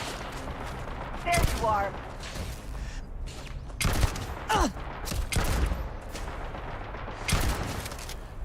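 Gunfire in Starfield during combat against turrets and mines: repeated bursts of shots and crackling volleys, some close and punchy, spread unevenly across the stretch, with someone talking briefly between them.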